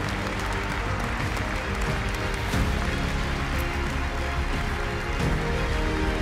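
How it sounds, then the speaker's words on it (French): An indoor audience applauds the organizing team at a French centenary celebration, a sustained dense wash of clapping that runs evenly throughout without a break. "applaudissements pour eux s'il vous plaît"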